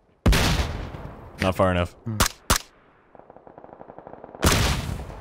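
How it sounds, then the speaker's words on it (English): Gunfire in the battle royale game PUBG on the Karakin map, with bursts of shots, a rapid rattling string of rounds and a final loud blast, while a player speaks briefly between them. "I'm being shot from the guys on top of the hill."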